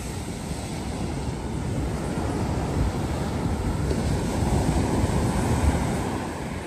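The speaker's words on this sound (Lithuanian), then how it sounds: "tokius bangos pareina čia" Sea waves roll in and break on the shore in a continuous low roar, with wind buffeting the microphone throughout.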